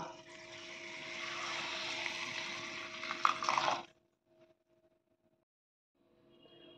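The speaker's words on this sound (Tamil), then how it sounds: "ராகி சேமியால ஒரு சொம்பு தண்ணி ஊத்திக்கலாம்." Water pours steadily from a pot over ragi vermicelli in a wide vessel for several seconds, a continuous rushing splash that cuts off abruptly, followed by near silence.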